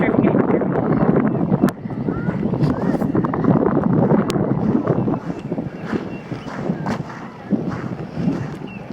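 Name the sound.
wind blowing at a lake beach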